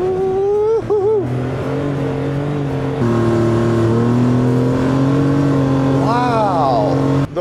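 Enclosed-cab UTV accelerating in sport mode, heard from inside the quiet cab, with steady engine drone and rising revs under a man's speech.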